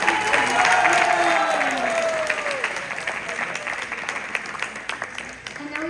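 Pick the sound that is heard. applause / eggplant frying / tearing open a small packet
applause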